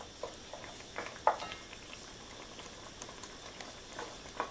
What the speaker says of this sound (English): So I'm going to let that simmer for a bit